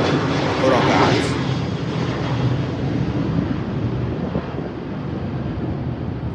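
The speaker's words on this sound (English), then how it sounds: "A plane flew by." An airplane passes overhead outdoors as a broad, roaring engine rumble with wind buffeting the microphone, loud at first and then easing slightly as it moves away.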